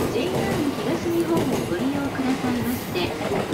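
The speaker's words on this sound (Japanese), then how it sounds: "今内房線の列車が蘇我駅を出発していきました。" A JR Uchibo Line train pulls away from Soga Station, its low rumble and rail noise steady throughout under continuous talk, with a faint rising motor tone.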